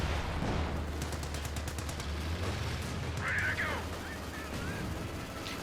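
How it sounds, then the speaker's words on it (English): Battle in Company of Heroes 2 with dense bursts of gunfire and rapid machine-gun rattles layered over a low rumble, a quick chirping effect partway through and no voice over the clip. "Unleashing hell upon Theodosious' lines, using thick armour, guns, and of course, grenades."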